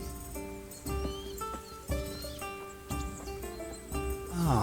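Horse in the video game Kingdom Come: Deliverance 2 with hoof clops on the ground and a neigh, close and clear over soft ambient music, with bird calls in the background.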